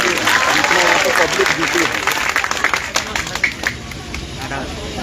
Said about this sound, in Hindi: जोरदार ताली बजा करके स्वागत करते